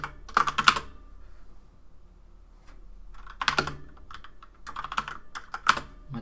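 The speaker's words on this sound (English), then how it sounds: "This new keyboard has really, really sensitive keys." Rapid clicking keystrokes on a new, highly sensitive computer keyboard, arriving in three close, crisp bursts of typing separated by quiet pauses, with no voices.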